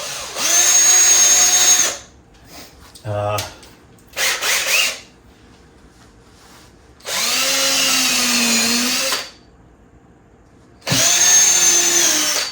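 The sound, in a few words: drilling small pilot holes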